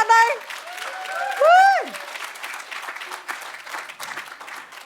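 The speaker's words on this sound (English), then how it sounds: "do you give her another round of applause, whānau?" An audience at a community talk gathering in Hawke's Bay gives a round of applause, a steady wash of clapping. A voice whoops near the start, and more voices call out over the clapping.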